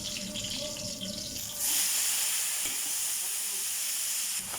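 Chicken hits a hot pan for a lemongrass dish, and a loud, steady sizzle of frying bursts in partway through and carries on strongly to the end.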